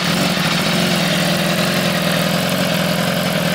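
A BMW S1000RR fitted with an Arrow Evo 2 exhaust idles nearby, a loud, steady, even drone with a fast, regular pulse and no talking.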